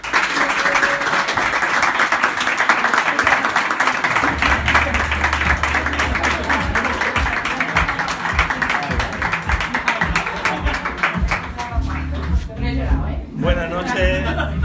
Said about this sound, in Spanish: recibamos con un fuerte, fuerte aplauso a este crack del arte